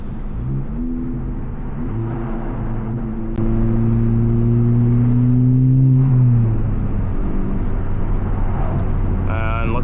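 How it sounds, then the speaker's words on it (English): Car exhaust drones through open windows while driving in New York, a steady low rumble that swells and shifts pitch midway as the engine revs, staying loud and close throughout. "Slow down the windows so you guys can hear a little bit of the exhaust."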